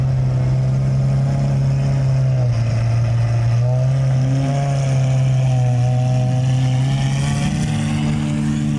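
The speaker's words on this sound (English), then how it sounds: "They're all starting their engines." Supercars at a Texas rally start up and rev, a loud continuous engine drone with rising and falling pitch sweeps as they pull away, heard close and unbroken by talk.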